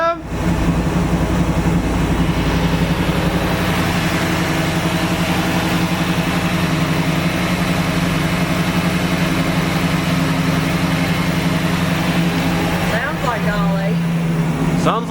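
A car engine idles steadily with a deep, rumbling low hum that holds throughout, close by and loud.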